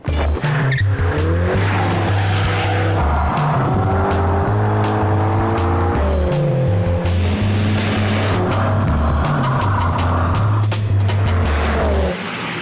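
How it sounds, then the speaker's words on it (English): A Mini John Cooper Works GP hot hatch is driven hard on a timed lap, its engine revving up and dropping through repeated gear changes, loud and close, with tyre squeal in the corners. "now he's going to use it to set a lap time"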